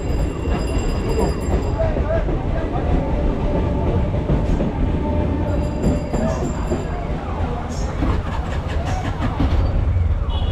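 Rail noise fills a crowded station platform in Kolkata, India, with a steady low rumble and rattling as a train moves in, under continuous chatter from many people.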